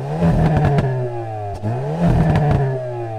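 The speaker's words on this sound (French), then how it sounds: "Au démarrage, le 4 cylindres s'ébroue avec force." The Hyundai Kona N's 2-litre turbo four-cylinder starts and revs loudly, with two strong rising-and-falling revs separated by a brief dip, close and alone.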